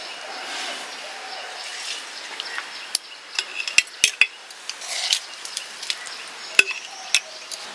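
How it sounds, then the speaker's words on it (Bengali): A spoon scrapes and clinks as cooled homemade Bengali tel jhal pickle is transferred into a storage jar, with irregular close metallic taps and scrapes over a soft background. "আমার আচারটা ঠান্ডা হয়ে গেছে, এখন আমি বয়ামে ভরতেছি।"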